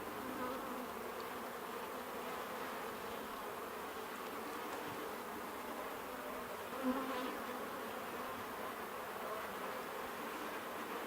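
Honey bees hum steadily at the hive, a dense, even buzzing that holds throughout at moderate volume with no voices.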